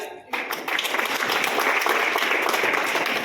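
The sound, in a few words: audience applause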